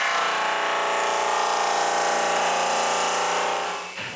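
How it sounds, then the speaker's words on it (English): A drum sander fitted with 60 grit sandpaper works across glued wood panels, giving a steady, loud grinding hum with a rough abrasive hiss that runs evenly for a few seconds and then winds down at the end. "My drum sander is equipped with 60 grit sandpaper."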